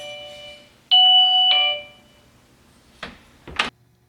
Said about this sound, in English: Alerta Chime is a magnetic door open sensor which plays an audio file when activated.